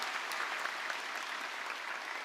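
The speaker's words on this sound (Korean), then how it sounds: "하나님께 영광의 박수를 올려드리겠습니다." A church congregation at a dawn revival service gives sustained, dense applause that fills the room evenly and continuously throughout.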